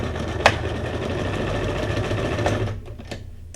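A sewing machine running a straight stitch on junk journal ephemera, a steady close mechanical whir that stays even for several seconds before slowing and stopping.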